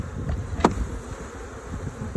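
Honey bees buzz around an open beehive during an inspection, a steady close insect drone with one brief louder pass as a bee flies near, no voices.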